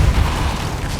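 Depulso force spell cast in Hogwarts Legacy, a short, deep booming thump with a rumbling low body that fades within about a second.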